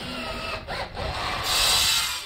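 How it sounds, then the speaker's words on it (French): Mechanical power-tool noise of drills running steadily at a wildlife park, with a brief dip midway and a brighter, louder whine toward the end. "Sainte-Croix vit au rythme des bruits des perceuses"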